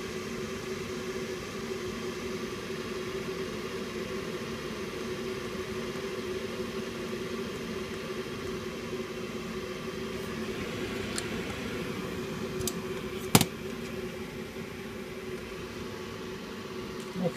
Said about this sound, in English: Starting to boil now.